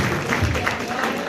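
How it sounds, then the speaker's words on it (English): Audience applause at a city council meeting: a steady wash of clapping from a crowd in a hall, moderately loud and continuous, with voices mixed in underneath. "That's the first time she's gotten a round of applause."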